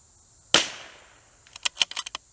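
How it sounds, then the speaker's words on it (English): .22 Long Rifle shots striking a steel plate at 167 yards, fired from a CZ 457: one sharp crack with a long decaying tail, then a quick cluster of about six short, bright metallic hits close together. "Smacking that plate around. Oh, as much as a little tiny 22 long rifle can."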